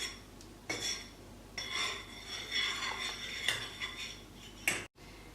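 Metal spoon scraping and clinking against a bowl while stirring a Christmas candy mixture, a steady rasping run of strokes with sharper clinks, no voices.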